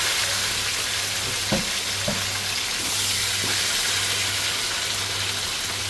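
Onions frying in hot cooking oil for a pinakbet mixed-vegetable dish: a loud, steady, close sizzle throughout, with a few soft clicks and taps over it and no talking.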